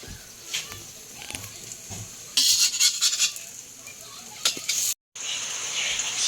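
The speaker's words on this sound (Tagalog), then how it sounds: "Pabaliktarin ko na siya." A hot cake being flipped in a frying pan: light scraping and clinks of a utensil against the pan, then a louder stretch of sizzling and clattering, with a brief silent gap before sizzling resumes.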